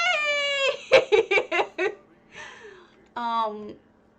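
A video game cat cries repeatedly in whiny, pitched mews, with a quick run of short choppy calls between longer drawn-out wails, loud and close.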